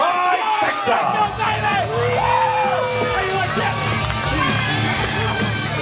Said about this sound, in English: This crowd in Navasota's got to be conflicted.